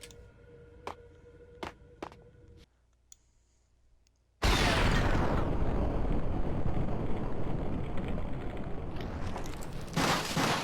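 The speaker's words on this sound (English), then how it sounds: "Motherfucker threw a grenade at me." A grenade goes off in the Max Payne game. A few sharp clicks are followed by a short silence, then a sudden loud, broad roaring blast whose rumble keeps going steadily for several seconds.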